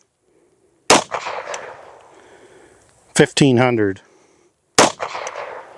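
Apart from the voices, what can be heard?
CZ-52 pistol firing 85 grain full metal jacket rounds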